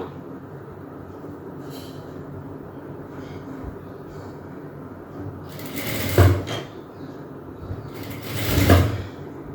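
A sewing machine stitches the seam of an umbrella frock during a tailoring lesson, humming steadily throughout with a soft mechanical rattle and two louder surges as the fabric is fed through.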